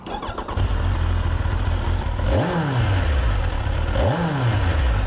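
A Kawasaki Ninja 1000 SX four-cylinder engine starts and idles close by, then gets two sharp revs that climb and fall away, with no talking.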